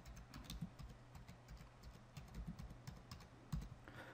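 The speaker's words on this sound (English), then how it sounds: "Now we open the properties and we will type in the title strain gauge test." Keys on a computer keyboard tap in a quick, quiet run of soft clicks, close by and faint, with no voices.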